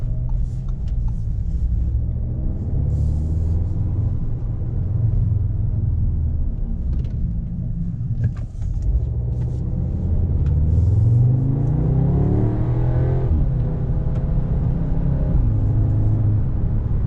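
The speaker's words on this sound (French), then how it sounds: "je vous propose maintenant de faire un petit tour avec la S3." A 2021 Audi S3 sedan drives on the road, heard from inside the cabin as a steady low engine and road rumble. Engine pitch rises audibly as it accelerates through the gears in the second half.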